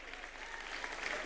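Studio audience clapping steadily throughout on a live Hindi comedy show stage, a dense, sustained burst of applause with a faint crowd murmur.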